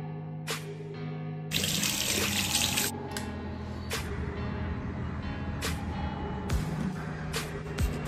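Hot water pours steadily from a tap for a bath, a continuous close rushing splash that carries through the whole stretch, with a few brief knocks and clatters over it and no talk.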